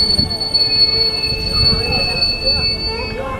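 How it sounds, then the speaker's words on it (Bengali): A train jolts and screeches as it comes to a sudden stop, with steady high-pitched wheel squeal over a loud rumbling rail noise throughout. Animated horror scene. "কিছুটা যাওয়ার পর হঠাৎ করে ট্রেনটা আবারও ঝাঁকুনি খেয়ে থেমে যায়"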